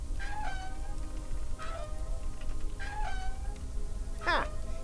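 A cartoon cat in the Deponia Doomsday video game gives four separate meows, spaced a second or so apart, rising and falling in pitch over a low background bed.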